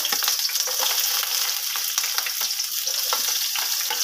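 Red onion, garlic and ginger fry in a hot pan with a dense, bright sizzle and occasional stirring clicks, close and constant, with no voices.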